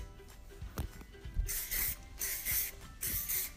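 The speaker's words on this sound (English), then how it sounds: "A little bit of hairspray." Hairspray spritzed onto freshly volumized, teased hair comes through as three short, sharp hissing bursts close to the mic, following a few quieter handling clicks.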